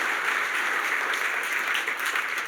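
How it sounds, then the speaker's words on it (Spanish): A church congregation breaks into loud, steady applause that fills the hall in a dense wash of clapping, sustained without pause and with no voices on top. "Le hace aplauso."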